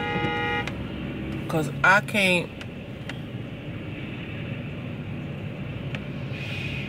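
Road traffic with a passing semi-truck and a short blaring horn blast in the middle, over a steady rumble of vehicles; a person talks nearby across the whole stretch.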